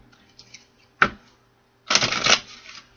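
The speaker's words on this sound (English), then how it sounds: "Two more shuffles, spirit." Tarot cards are shuffled quietly up close: first a short, sharp riffle, then after a pause a longer, fuller burst of shuffling.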